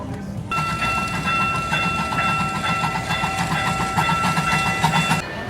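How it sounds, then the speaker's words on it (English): Small boardwalk train at Kemah Boardwalk rolling past, steady clatter with a sustained tonal whistle-like hum starting abruptly and holding for several seconds, fairly close and loud, no speech. "So the train came around."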